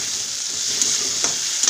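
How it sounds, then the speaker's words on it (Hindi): Spice masala and onions fry in oil while being stirred, a close, steady sizzle with a few sharp scrapes from the spoon toward the end and no speech. "मसाले को अच्छी तरह से भून लेती हूँ, जब तक तेल साइड साइड से निकलने ना लगे"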